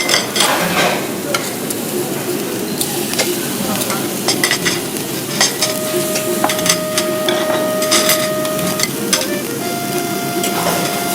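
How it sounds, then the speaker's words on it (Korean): Korean pork galbi sizzles loudly on a barbecue grill in the Idong galbi village of Pocheon, a dense continuous crackle close up, with scattered clinks and scraping of utensils over it. "갈비 먼저 올려드릴게요."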